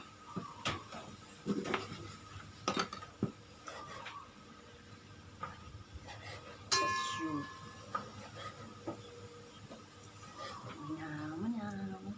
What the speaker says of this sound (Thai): ต่อไปก็มะนาว หั่นมะนาวนะคะ